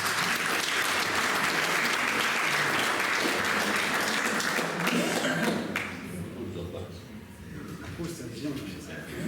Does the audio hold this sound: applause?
yes